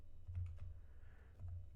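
A few soft, quick keystrokes tap on a computer keyboard while someone writes a program, faint and close against a low steady hum.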